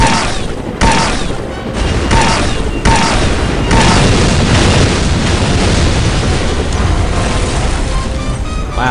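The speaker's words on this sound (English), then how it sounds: "that kind of explosion right in front of me would have, like, cut the entire gondola down" Loud booming explosions and gunfire fill a firefight on a gondola in the N.O.L.F. video game, a dense sustained barrage with several sharp blasts early on and continuous rumbling after.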